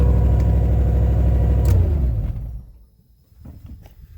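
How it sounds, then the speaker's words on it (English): A 1987 Chevy Blazer truck engine with an exhaust leak idles loudly with a rough, sputtering exhaust note, then fades out, leaving quieter low puttering bursts. "You can probably hear that exhaust leak. It's obnoxious."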